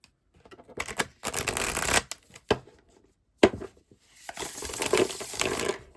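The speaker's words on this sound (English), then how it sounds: "Let's do a test shuffle round 2." Playing cards riffle-shuffled in two bursts, a bowed deck worked by hand: a long ripping flutter, a few sharp snaps, then a second longer riffle, close and crisp with no talk.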